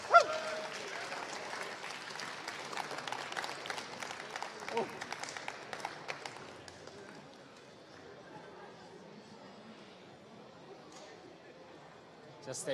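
Audience applause for Unley High School, the HSEL 2018 Rocket League champions at Hybrid World Adelaide: a dense burst of clapping for about six seconds, which then thins into low crowd chatter.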